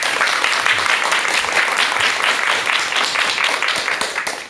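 A lecture audience gives a warm round of applause to welcome a speaker, with steady, close, dense clapping that holds for several seconds and tapers slightly at the end.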